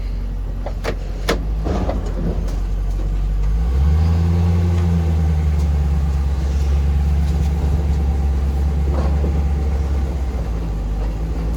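A 1969 Dodge Charger drives down a street, its engine rumbling low and steady, swelling slightly as it pulls away, with a few faint clicks early on and no talk.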